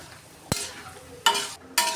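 Chopped radish and coriander leaves dropped into a hot pan of fried onions and fish head for a village-style radish ghonto; three sharp bursts of sizzling and stirring, close and loud, with quiet gaps between.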